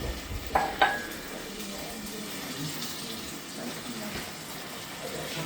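A pot of jollof rice is stirred after water is added, giving soft, wet scraping and sloshing, with two sharper utensil knocks near the start, close and fairly quiet.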